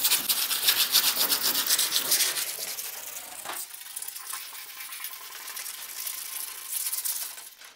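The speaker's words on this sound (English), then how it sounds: "this is just some 40 grit sandpaper. So just like your board file sort of sandpaper" Coarse 40-grit sandpaper rubbing hard across a bare steel panel on an HZ Holden, a steady rasping scratch that is loud early on, then continues lighter and thinner for the rest of the clip.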